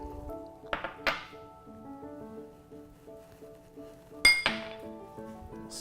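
A utensil clinks and scrapes against a bowl while gelatin is stirred to bloom, with a few sharp taps and soft rattles over a quiet kitchen background.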